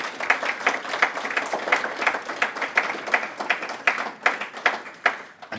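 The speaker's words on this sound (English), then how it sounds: "So I want to give a round of applause, especially to those people." Sustained audience applause at a ceremony, a dense, steady patter of many hands clapping together close by, continuing evenly without talk.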